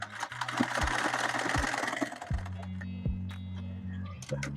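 A manual sewing machine stitches a straight-stitch buttonhole, its needle thumping in steady repeated strokes with a low mechanical hum and rattle, fairly close and continuous with brief pauses between runs.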